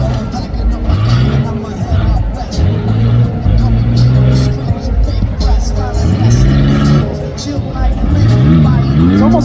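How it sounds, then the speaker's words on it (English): A custom Ford Ranger rough truck drives through rumble strips on a slick track at a night rough truck competition in Red Bluff, California. Its engine roars and surges up and down in pitch, loud and close, with announcer talk and crowd noise over it. "Thomas Garrett giving it a good shot here through the rumble strips"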